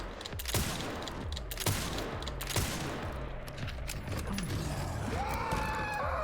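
Several sharp gunshots in a Resident Evil game, spaced about a second apart over a busy, rumbling game background, with mechanical clatter between the shots.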